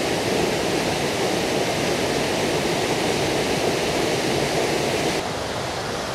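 Rushing mountain stream pouring over a waterfall above a creek, a steady, loud, dense roar of falling water that fills the whole clip without pause, close by, with no voices.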